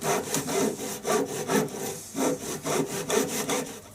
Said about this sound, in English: what I do is I hold a bit of maple here and I saw down